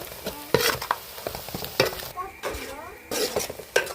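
Fried, hand-ground masala with turmeric is stirred in a hot pan for a chicken curry, giving loud close sizzling with repeated scraping and clanking of a spoon against the pot.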